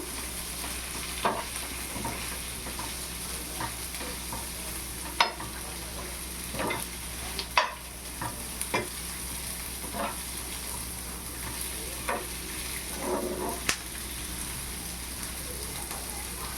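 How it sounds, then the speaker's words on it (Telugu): Food fries and is stirred in a pan while cooking chicken burger filling at home, giving a steady soft sizzle with occasional scraping clicks from the stirring, close up and without talk. "కొద్దిగా వేయిస్తానండి మరీ పచ్చిగా లేకుండా అలాగని ఉడికిపోకుండా కొంచెం వేడి చేస్తాను"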